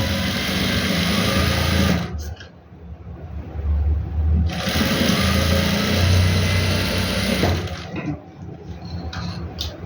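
Sewing machine running in fast bursts as it stitches gum lace onto fabric: a close, even mechanical whir that stops for about two seconds twice, then starts up again.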